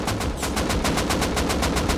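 Rapid automatic gunfire in the survival game Rust: a dense, continuous burst of evenly spaced shots, loud and close, filling the whole short stretch with no talk.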